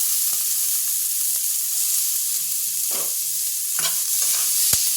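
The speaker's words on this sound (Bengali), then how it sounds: "টমেটম কুচনোটা দিয়ে দিলাম" Chopped tomato with onion and capsicum stir-fried in a pan, giving a steady sizzle broken by several scraping stirs and a sharp clack near the end, close and fairly loud, with no talking.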